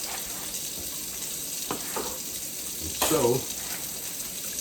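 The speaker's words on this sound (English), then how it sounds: "Let me fill my sink up. Some water." Tap water runs steadily into a kitchen sink being filled to wash a bunch of greens, a constant splashing hiss with a brief louder gush partway through, while a person speaks briefly over it.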